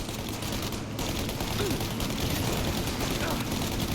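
Sustained gunfire in a shootout from Mafia: Definitive Edition, dense and continuous at moderate level, with a voice talking over the shots.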